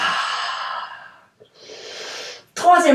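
A deep inhalation during a Pilates exercise, a long airy breath drawn close up, followed after a short pause by a second softer breath and then a brief sharper breath.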